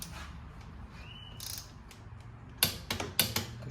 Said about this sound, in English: we're going to tighten up the caliper mounting bolt right here